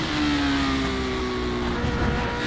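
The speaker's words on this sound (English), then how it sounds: "Oh, listen to that engine." A Lotus 79 race car engine in a racing simulator game drones loudly and continuously, a steady high-revving tone with the pitch sliding slightly downward, no talk over it.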